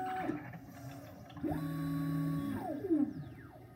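A 3D printer runs while printing a phone cover for an iPhone 6S, its stepper motors whining in rising and falling tones with steady pitched passes, fairly close and with no talk.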